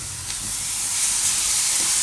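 Tomatoes hitting a pan of roasted flour while cooking methi bhaji gravy, a steady loud sizzle and hiss rising and holding for two seconds, with faint stirring scrapes underneath and no voices.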